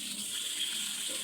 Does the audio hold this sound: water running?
yes